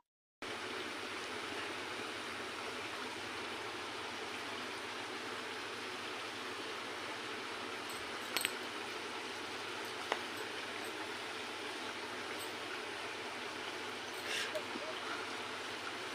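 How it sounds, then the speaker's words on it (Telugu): Onions sizzling in hot oil, a steady, even hiss of frying holding at a constant level throughout, with a few faint clinks along the way. "ఈ ఆనియన్స్ బాగా వేగాలి"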